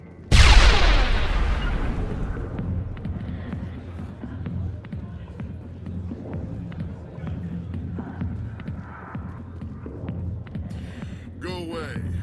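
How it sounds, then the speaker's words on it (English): A grenade detonates in the Mass Effect video game with a sudden loud blast, followed by a long rumbling tail and scattered gunfire, with a short burst of chirping effects near the end. "Oh, that's a grenade."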